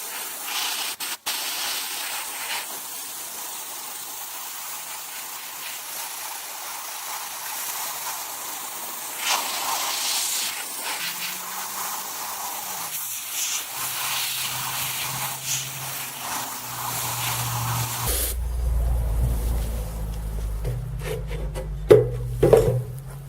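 A DIY sandblaster fed by an air compressor blasts a badly corroded old cast iron frying pan. It gives a loud, continuous hissing spray that holds steady for a long stretch, then shifts and sputters as the air runs low.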